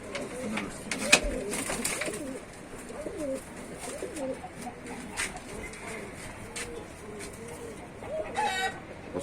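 Pigeons in a loft at a breeding and sale setup in Tanta, Egypt, with soft cooing and scattered calls throughout, moderately near, plus shuffling and faint background clatter.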